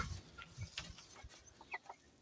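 Chickens and roosters, including Brahma fowl, cluck softly and intermittently in a quiet farmyard, with brief faint calls scattered over low background noise.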